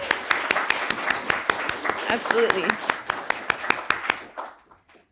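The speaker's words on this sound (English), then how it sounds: "yes, let's applaud" An audience at a poetry reading breaks into applause, a sharp, rhythmic run of claps that fades out, with a voice speaking briefly over it.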